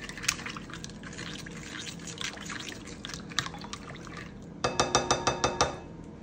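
A spoon stirs pasta salad in a mixing bowl in a home kitchen, giving soft scraping and clattering, then a quick run of about six bright, evenly spaced clinks against the bowl near the end.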